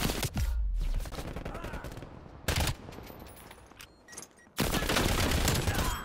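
Bursts of EM2 assault rifle fire in the shooter game Black Ops Cold War, loud sustained volleys at the start, a short burst in the middle and another long stretch at the end, with quieter game ambience between.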